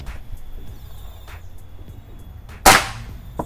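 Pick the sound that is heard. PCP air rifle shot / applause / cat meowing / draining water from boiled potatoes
PCP air rifle shot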